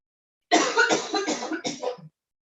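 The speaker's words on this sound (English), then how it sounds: "I'm just going to cough." A woman in a home kitchen coughs several times in a quick close burst, loud and near, followed by silence.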